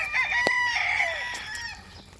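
Selected 4.5-month-old breeding pullets on a farm range: close, shrill chicken calls and a drawn-out crow-like cry over faint barnyard clucking, with a sharp knock near the start.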